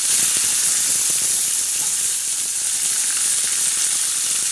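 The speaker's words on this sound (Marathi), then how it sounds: "आता हा चांगला तडका बसलेला आहे।" Onion tadka sizzling hard in hot oil for a spicy moong dal fry, a loud, steady, continuous hiss close up with faint scattered crackles and no voices.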